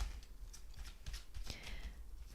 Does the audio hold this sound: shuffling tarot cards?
yes